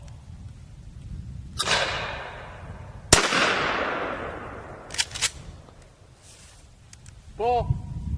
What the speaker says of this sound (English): So you know that I could shoot with the shotgun.